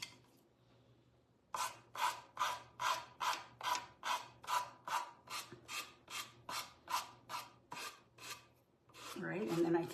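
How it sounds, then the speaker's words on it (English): Sandpaper rasps back and forth over a curved section of a wooden peacock craft piece, about seventeen steady, evenly spaced strokes, close and fairly loud, with no talking. "I want to sand it so it's easier"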